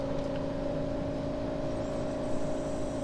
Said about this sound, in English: I don't know if you can hear that engine.